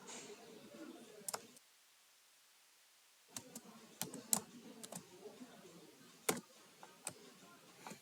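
Java code being typed on a computer keyboard: scattered, irregular key clicks with a short pause, fairly soft and close.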